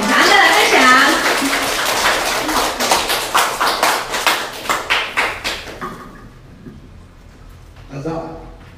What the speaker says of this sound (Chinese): 那我们要给他热烈掌声